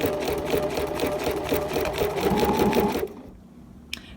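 A sewing machine stitching an applique around the outside of a curve runs in a steady, fast mechanical whir with rhythmic needle pulses for about three seconds, then stops, leaving a faint hum and one small click.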